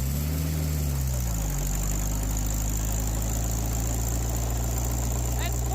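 A truck engine runs steadily in fourth gear, a loud, constant low drone after a brief rise and settle in pitch at the start, with a faint high whine above.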